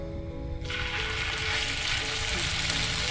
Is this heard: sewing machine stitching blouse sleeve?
no